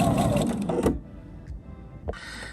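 Sewing machine stitching a fabric tree skirt, a dense motor whir running steadily for under a second, then stopping into near silence before a short burst of stitching resumes at the end.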